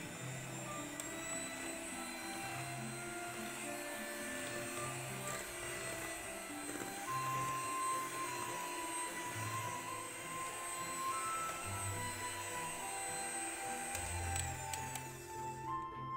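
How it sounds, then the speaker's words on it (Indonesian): Electric hand mixer beating eggs and sugar for a baked cassava tape cake, a continuous close motor whine and hum with slight shifts in pitch, running without voices. "Kemudian mixer secara bertahap dari kecepatan rendah ke kecepatan tinggi. Mixer sampai putih,"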